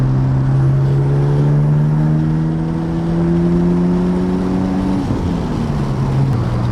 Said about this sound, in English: I hope you can hear the turbos.